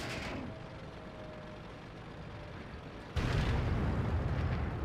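Artillery shell explosion in World of Tanks, a low rumbling boom bursting in suddenly after a quieter stretch of battlefield noise, moderately loud and sustained to the end, no talk.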